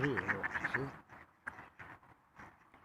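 A protective domestic duck lets out a rapid, close run of loud quacks, followed by quieter scattered calls and brief sounds over a softer stretch.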